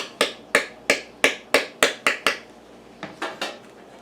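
Orange cake batter is mixed by hand in a bowl, a quick rhythmic run of about eight sharp taps of the utensil against the bowl, a brief pause, then three softer strokes, with no speech.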